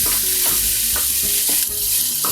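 Vegetables for vegan tortilla soup sizzling in a hot pot as a spoon scrapes and stirs them, with rhythmic stirring strokes about every half second over a constant loud frying hiss.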